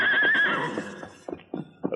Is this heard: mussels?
no